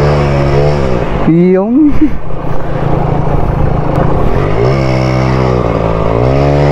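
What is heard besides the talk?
50cc scooter engine revving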